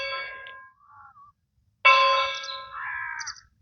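Bells ring out in a few bright metallic clangs with long ringing tones that hold and fade, loud and clear against near silence.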